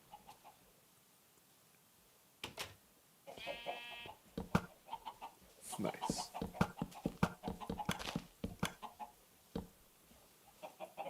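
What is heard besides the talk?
chickens clucking in the video game Minecraft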